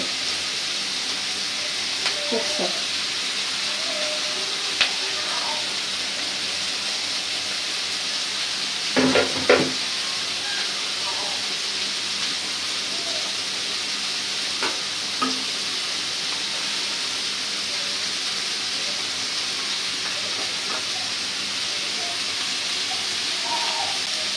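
Beaten egg frying in oil in a pan, giving a steady, soft sizzle and hiss throughout, with a few brief clinks from a utensil along the way.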